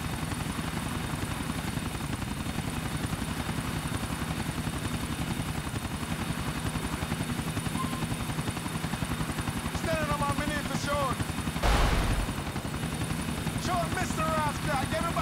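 Helicopter from GTA IV flying steadily in a mission, a continuous rotor and engine drone throughout, with brief bird-like chirps and a short loud burst near the end; characters talk over it.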